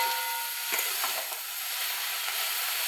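Whole neem leaves dry-roast in a wok without oil, producing a steady dry crackling hiss with a few light scraping stirs, close and even, no voices.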